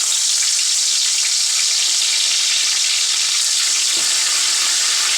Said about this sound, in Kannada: ಎಣ್ಣೆ ಬೆಚ್ಚಾತಲು ನೆಕ್ಕೊಂತೆ ಕರಿಬೇವು ಸೊಪ್ಪು ಪಾಡ್ಗ